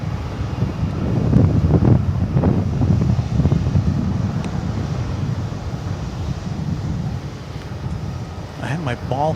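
Wind buffeting a microphone at DFW Airport at night, a steady rumbling roar with gusts that rise and fall, while a person talks over it.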